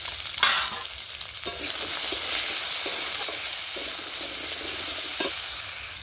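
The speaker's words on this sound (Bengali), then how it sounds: "আর একটু হলুদ দিয়ে আমি ভেজে নিচ্ছি" Potatoes with salt and turmeric fry in hot oil, giving a steady, close crackling sizzle with occasional scrapes of a spatula stirring them.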